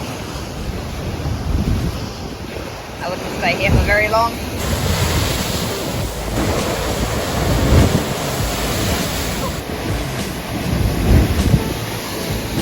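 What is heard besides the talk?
ocean waves crashing on shore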